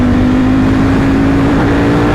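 A Ducati Panigale V4S motorcycle engine runs loud and close with a steady, rough drone and an even pitch, heard alone.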